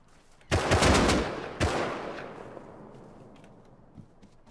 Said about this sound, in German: Lila ist wohl auch unter Beschuss von irgendjemand